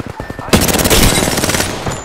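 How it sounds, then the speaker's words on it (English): Enemy automatic gunfire in a video game battle, a close, loud burst of rapid shots that rattles on steadily for about a second and a half after a short lull. "The enemies are shooting at me."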